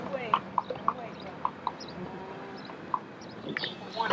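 Horse hooves clip-clop in sparse, irregular strikes as a horse-drawn carriage passes along a city street near a green-domed church and hotel, with people talking over the scene.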